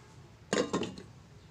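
A lid set onto a cooking pot of snail curry, two quick close metallic clinks in succession, loud against a quiet kitchen background.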